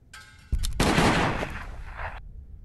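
Gunfire in the Orphan Black mobile game: a couple of quick shots, then a loud burst of rapid firing lasting over a second, cutting off into silence.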